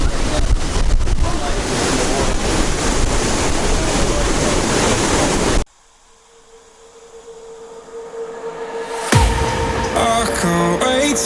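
Strong outdoor wind buffets the microphone on an overcast day at a Cape York waterfall, a loud broadband roar for several seconds, then a sudden drop to quieter surroundings before gusts rise again.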